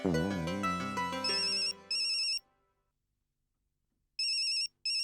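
A melodic phone ringtone plays, then switches to a bright electronic trill that cuts off, falls silent, and starts ringing again.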